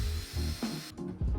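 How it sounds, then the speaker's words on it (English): Plywood being pre-drilled and countersunk for flat-head screws in a 2019 RAV4 trunk camper build, heard as two short, close drill bursts with a brief pause between them, no talk. "This section of the build is a lot of countersinking and pre-drilling."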